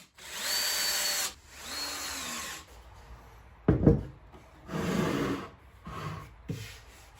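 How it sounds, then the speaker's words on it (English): Cordless power drill driving screws to fix a wooden shelf in a bedside table, with several close whirring bursts rising in pitch, pauses and a thump of wood between runs. "When screwing the shelf in place, I used a spacer block"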